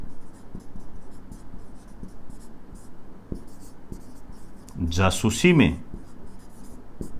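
Pen scratching a line of writing on paper, steady close strokes running under a man's speech in Hindi, with the voice rising louder near the end.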